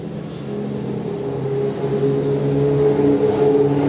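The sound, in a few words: replica Ford GT40 race car driving on track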